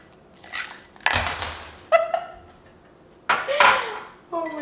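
Ice cubes drop into a glass for an iced oat milk latte, landing in several crunchy, clattering bursts at close range.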